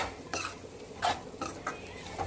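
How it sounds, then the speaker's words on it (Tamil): A spoon stirs chicken curry with spice powder in a pot, giving several quiet, close scraping and clinking strokes at an uneven rhythm with short pauses between them. "போட்டு நல்லா கிளறி விட்டுக்குவோம்"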